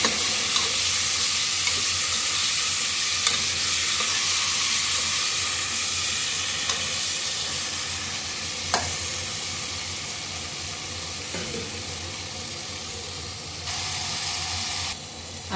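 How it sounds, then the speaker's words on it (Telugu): Liver frying in a little oil and being stirred, a steady dense sizzle with occasional spoon scrapes against the pan, close and fairly loud throughout. "ఇప్పుడు లివర్ వేసేస్తున్నాను. ఇది కూడా ఒకసారి అంతా కలబెట్టాలండి."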